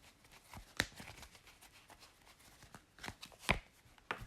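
Tarot cards are laid down and handled on a table in soft, scattered flicks and taps, with a couple of sharper slaps standing out, faint and close, with no talking.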